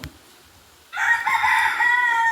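A rooster crows once, loud and close, a long strained call that begins after a short quiet moment.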